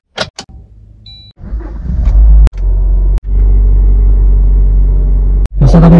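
A car engine starts up and settles into a loud, steady close-range rumble, with a few sharp knocks and door or handling thuds breaking it up, and a brief voice at the very end.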